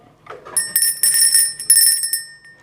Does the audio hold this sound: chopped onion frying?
no